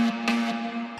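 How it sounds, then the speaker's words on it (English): A short vocal sample heavily processed with distortion, stereo shaper and Camel Crusher effects, producing a steady buzzing, saturated tone with a strong sustained pitch and brief bursts of grit, close and loud, about one second long. "added a bunch of effects, distortion, stereo shaper, camel crusher, lots of distortion."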